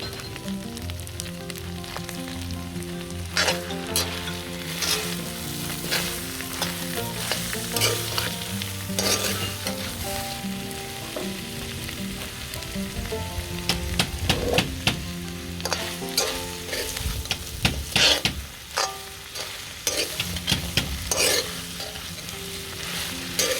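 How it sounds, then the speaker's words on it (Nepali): Chicken masala with tomatoes stirred and frying in a kadai, a steady close sizzle broken by repeated scraping and stirring clatter, with a faint music-like hum underneath and no talk. "मैले अब टमाटर राखेर भुट्छु"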